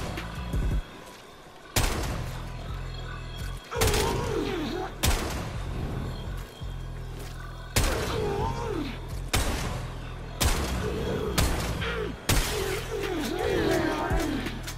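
Repeated loud blasts from the Strun Wraith shotgun in the video game Warframe, about nine broadband booms spaced a second or two apart over a steady low game-engine hum, with Mirage ability effects swirling between shots.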